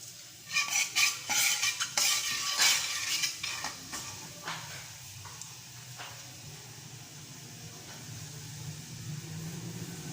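Cumin seeds drop into a hot pan for a sour lentil dal and are stirred, giving a burst of crackling sizzle with spoon scrapes in the first few seconds, then a softer, steady sizzle underneath.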